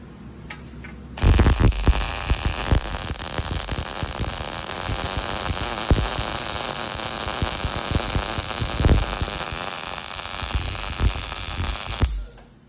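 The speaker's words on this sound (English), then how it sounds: "I welded in a straight line" A MIG welder runs one continuous bead along a straight line, a loud steady crackling buzz with small pops that starts abruptly, holds for about eleven seconds and cuts off, close by with no talk.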